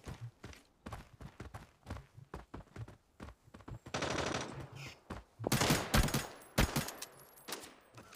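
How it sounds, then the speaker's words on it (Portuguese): Bursts of gunfire in the tactical shooter Arena Breakout crackle loudly after a stretch of quiet footsteps, with rapid shots clustered in the second half. "Estão atirando no nosso cara"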